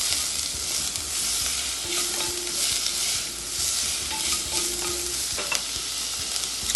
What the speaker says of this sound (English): I like to sweat my onion and garlic so that it's nice and translucent